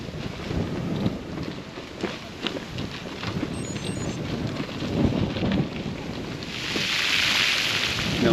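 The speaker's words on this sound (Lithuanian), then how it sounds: "Vėjas tai baisolinis." Strong wind buffets the microphone in a steady broadband roar with gusty surges, loud and continuous outdoors near water, with a louder hissing gust toward the end.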